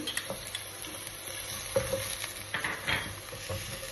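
Green chilies fry with beans and other vegetables in a pan for chicken fried rice, a constant close sizzle broken by scraping stirs and light clinks of a utensil against the pan.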